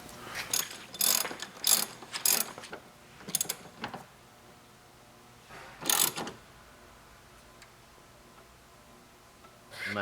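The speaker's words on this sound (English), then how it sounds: "And now you can tighten up the rest of your bolts." A ratchet tightens bolts on a ZZP Sonic cold air intake in short, close bursts of clicking, several quick runs early, one more burst midway, with quiet gaps between.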